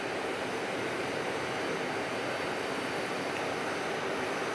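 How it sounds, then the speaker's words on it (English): Wide-body airliner engines at Phoenix Sky Harbor airport, a loud steady broadband roar with a high whine on top, continuous and unbroken. "The hint for this one is this is a wide-body aircraft"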